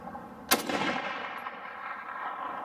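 A single sharp gunshot from an M1A rifle firing a .308 (7.62x51) round into a steel disc brake, loud and close, with a long echoing decay trailing off over a couple of seconds.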